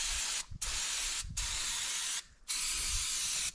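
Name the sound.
spraying brake cleaner on motor mounts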